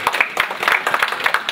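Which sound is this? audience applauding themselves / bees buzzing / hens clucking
audience applauding themselves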